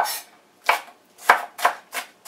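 Onion is chopped finely with a knife on a board, four or five crisp, close knife strikes at an uneven pace with short gaps, alone and without speech.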